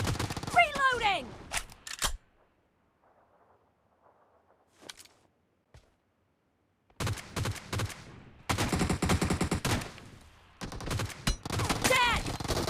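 Bursts of rapid gunfire from a shooting video game, loud clustered volleys at the start and again through the second half, separated by a quiet stretch with faint scattered shots and brief shouted voices.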